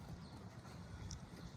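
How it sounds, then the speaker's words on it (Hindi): Horse trotting on a lunge line during training, soft rhythmic hoof thuds at a quick even pace, faint and somewhat distant against a muffled background, with no talking. "तो ये जो है इसमें घोड़ा ट्रॉट करता है हमारा।"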